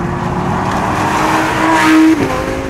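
A Lamborghini Huracan's engine sounds loud and close, holding a steady drone before swelling into a rising rev that cuts off sharply near the end.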